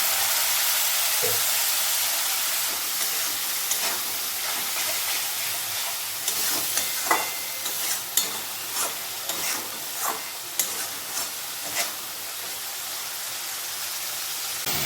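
Spice masala sizzles and hisses steadily in a pan with a little water for chole bhature. A utensil stirs it with a rhythmic series of scraping knocks in the second half, close up and with no voices.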